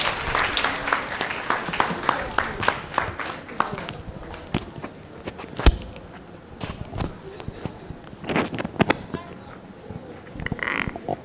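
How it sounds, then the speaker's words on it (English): Audience applause at a mental health awareness conference, a moderate spell of clapping after a drama troupe's performance, dense at first and then thinning into scattered claps and room noise. "Please, another round of applause for the drama troupe."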